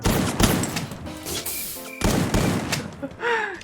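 Bursts of gunfire in the battle-royale video game Free Fire come as rapid volleys with short gaps, plus a few sharp game effect tones near the end.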